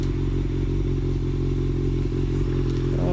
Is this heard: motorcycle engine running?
yes